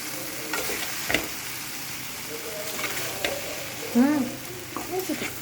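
Maggi masala noodles stirred and lifted in an oily pan, giving a soft, steady sizzle with a few scraping strokes of the spatula, heard alone at moderate level.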